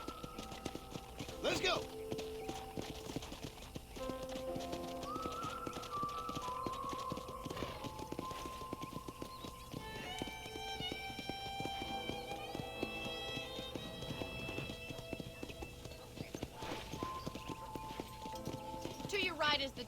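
Horse hooves clip-clopping in a ranch video game as the rider sets off, a quick rhythmic clatter running throughout beneath a voice and game characters talking, with music-like tones drifting in midway.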